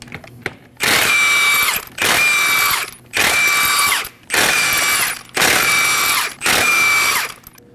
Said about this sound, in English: Using a 21mm socket, go ahead and remove the lug nuts.